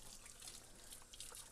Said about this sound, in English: I'll rinse it off really well with hot water